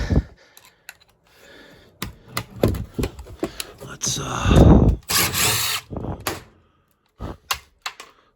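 A power driver backs small screws out of a fitting in a commercial building, with short buzzing whirs, rattles and clicks, a louder sustained burst midway, and someone talking in between.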